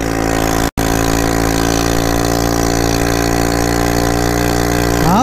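A four-wheel ATV engine running on sand near Dhanushkodi, a loud, steady mid-pitched drone held close throughout with one very brief dropout and a slight rise in revs at the end.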